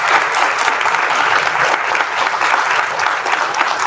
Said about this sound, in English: I'd like to give you a round of applause